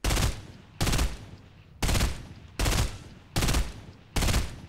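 Burst assault rifle fire in the Fortnite battle royale game: six loud, sharp bursts spaced about a second apart, each cracking in hard and trailing off, with no talking.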